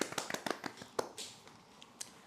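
A few scattered hand claps from a small audience welcoming a presenter at a Dell Technologies PowerStore talk, faint and sparse, thinning out after a couple of seconds.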